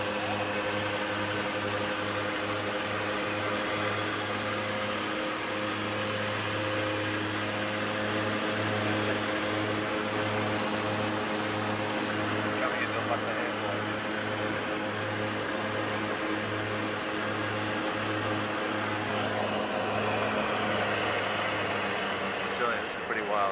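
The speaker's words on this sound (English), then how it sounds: "we're flying in this 15-seater from Kathmandu into Lucknow Airport, which is quite a small airport" A small 15-seater propeller plane flying into a small airport in Nepal gives a steady, loud engine drone with a pulsing low hum throughout the cabin.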